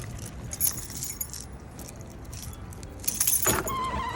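Keys jangle and rattle as someone climbs into a car at close range, with a door thud and rustling near the end; no talk.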